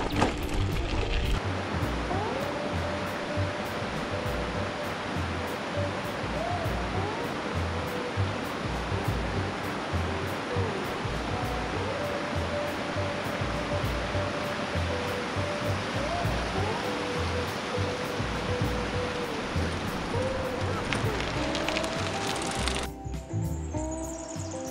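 Steady rushing flow of Reedy Creek beside a campsite in Chiltern Mount Pilot National Park, Victorian High Country, a constant broadband wash with faint bird calls above and a brief interruption near the end.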